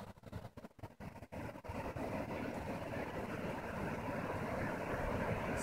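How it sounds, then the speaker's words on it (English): Ocean waves at Sunset Bay, Oregon, roll and crash on the shore as a broad, steady roar with wind buffeting the microphone, choppy at first and then a sustained surge. "See the waves crashing?"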